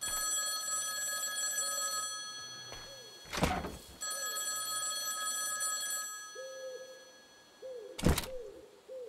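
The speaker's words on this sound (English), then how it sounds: "I hear that phone again." An old telephone bell rings in a phone booth within the forest horror game Lempo, repeated ringing bursts with short gaps and a couple of heavy thunks, heard alone over steady ambient game sound.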